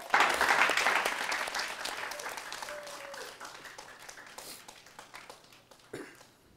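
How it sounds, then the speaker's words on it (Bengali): Audience applause after a performance on a comedy talent show, loud at first, then gradually thinning and fading over several seconds, with a brief voice and a few late claps near the end. "সবাই জোরে তালি দাও।"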